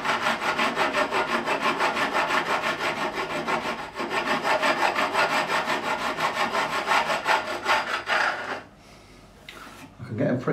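Metal file rasping steadily across the frets of a Fender Standard Stratocaster during a refret, continuous close scraping strokes that drop away briefly near the end before resuming.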